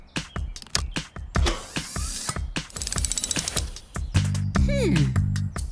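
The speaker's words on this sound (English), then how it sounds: "turn Fiona's reel into a winch" A cartoon garage hose reel rigged as a winch to haul a vehicle stuck in slippery mud, heard as a run of rapid ratcheting clicks and mechanical cranking, loud and near, with a brief whirring rise near the end and voices at times.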